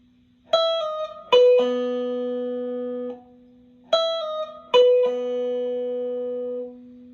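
An electric guitar plays the second phrase of a song's intro riff with a clean tone: two short bursts of plucked notes, each with a pull-off, ringing and sustaining over a held low note, close and clear, with no voices.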